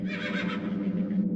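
A horse neighs in a video game, a strong whinny that carries for over a second at close range and fades out toward the end.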